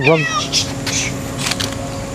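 A cat meows several times in quick succession near the start, its cries rising and falling, followed by a few fainter meows while people talk nearby.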